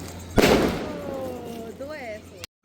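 At a Pahadi Igaas Bagwal Diwali-style celebration, a firecracker pops sharply and an anar fountain hisses and crackles for a couple of seconds while a voice calls out over it.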